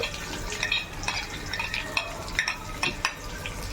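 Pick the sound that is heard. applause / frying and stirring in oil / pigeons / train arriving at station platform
frying and stirring in oil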